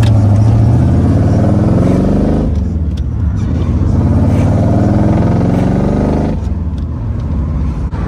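A Chevrolet Corvette C4 engine rumbles loudly up close, revving and pulling away, with a gear change partway through as the engine note rises again.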